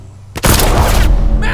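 A sudden loud burst of gunfire erupts, followed by a sustained roaring blast that keeps going for about a second, heavy and close.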